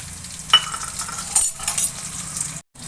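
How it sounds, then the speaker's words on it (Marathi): Sliced onion sautéing in a pan with ginger-garlic paste and green chili, a steady soft sizzle broken by a few clinks and scrapes of a spoon stirring against the metal, close and without talk. "बारीक चिरून पातळ असा कांदा छान गुलाबी कलर येईपर्यंत परतून घ्यायचा"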